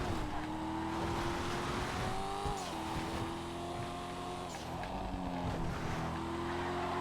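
A sports car's engine drones while being driven in the GTA FiveM game, its pitch rising and dipping through gear changes, with a moderate steady tone and no talking.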